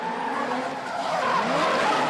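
A drift car slides along the wall at a D1NZ drifting competition at BayPark, its tires screeching in a continuous, loud, wavering squeal with engine tone beneath.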